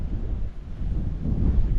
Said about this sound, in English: You can see it's windy again.